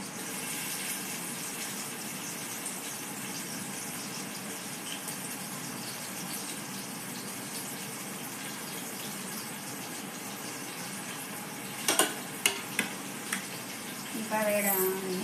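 Onions frying in hot oil, a steady soft sizzle held throughout, with a few clattering knocks near the end. A voice speaks faintly under it.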